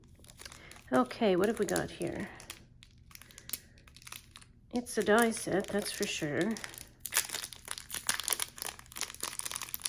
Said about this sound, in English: There's a little piece of tissue paper behind the door.